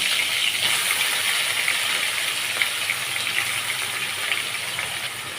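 Washed, cut bitter gourd pieces dropped into hot white cooking oil in a pan, giving a loud, steady, bright sizzle that hisses continuously without pause.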